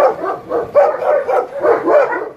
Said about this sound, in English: There's a lot of shepherds, and then there's a lot of hi babies.